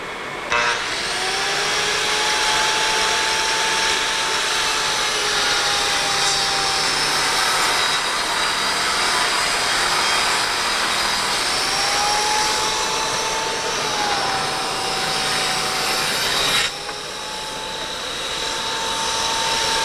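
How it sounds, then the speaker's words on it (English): A Milwaukee circular saw on a vertical panel saw cutting through a sheet panel at a woodworking show, a loud continuous whining roar held for the whole cut with a slight pitch shift near the end. "And so I see a Milwaukee saw on there"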